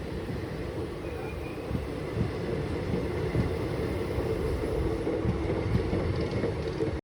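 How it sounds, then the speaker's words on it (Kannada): The Chennai Egmore Guruvayur Express passes close by: a dense, continuous rumble of wheels and carriages with irregular clanks and thumps throughout, steady in level and heard alone. "ಚೆನ್ನೈ ಎಗ್ಮೋರ್ ಗುರುವಾಯೂರ್ ಎಕ್ಸ್ಪ್ರೆಸ್ ನೋಡ್ರಿ"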